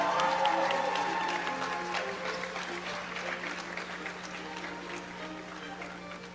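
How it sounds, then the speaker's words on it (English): An audience at a medical school white coat ceremony applauds steadily, a dense crowd clapping that slowly fades a little, with no voices over it. "Let's give them one more big round of applause."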